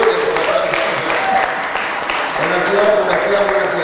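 A church congregation applauds and cheers steadily, a dense wash of clapping with voices mixed in throughout.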